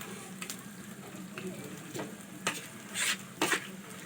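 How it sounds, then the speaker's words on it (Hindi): Mashed potato frying in a pan as it is stirred, giving a soft steady sizzle with scattered scraping spoon strokes and a few louder clacks near the end. "इसमें अब आलू को डाल के, मैश किया हुआ आलू, तो अच्छी तरह भून लेंगे"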